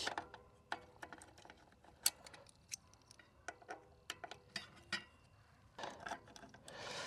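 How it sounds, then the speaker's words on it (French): Scattered faint metallic clicks and ratcheting ticks come from a tool loosening the disc brake caliper bolts on a gravel bicycle, irregular and close-up in an otherwise quiet space. "je desserre les étriers"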